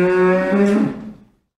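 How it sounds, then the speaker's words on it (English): A cow gives one full, low moo lasting about a second, sung out close and clear before trailing off into silence. "Cow."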